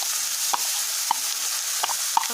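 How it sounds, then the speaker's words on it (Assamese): Chopped onions fry in very hot oil for a local chicken curry, a steady sizzle running throughout with a few sharp clicks of a spatula against the pan. "মোৰ ইতিমধ্যে তেলখিনি বহুত গৰম হৈ গৈছে আৰু এতিয়া মই কাটি থোৱা পিঁয়াজখিনি ইয়াত দি দিছোঁ"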